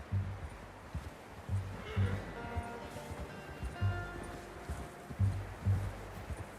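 Horse hooves in a Western video game clip-clop at an unhurried walking pace, a steady rhythmic series of soft thuds with faint rustling behind them.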